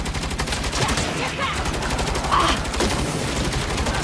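Dense, continuous gunfire from the Saints Row video game rattles loud and close in rapid bursts through the whole stretch. It sounds like several weapons firing at once.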